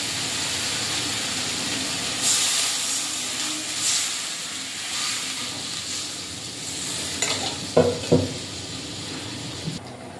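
Fish stirred with spices in a hot oiled pan for a mustard-oil fish curry, giving a steady sizzle and hiss with a few louder scraping stirs near the end, no talking.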